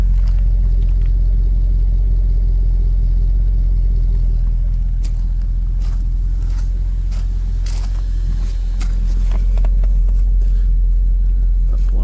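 A Mercedes CLK63 AMG convertible with the M156 6.3L V8 idling, a loud steady low rumble with even firing and occasional light clicks and scrapes nearby.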